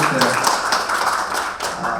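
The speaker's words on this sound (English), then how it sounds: "a big round of applause for Taran ji." An audience at a wellness programme gathering breaks into steady applause, a thick run of clapping hands heard up close with people speaking over it.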